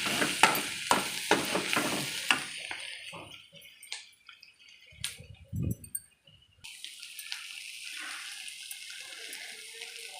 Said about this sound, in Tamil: வெங்காயம் நல்லா முறியிடுச்சு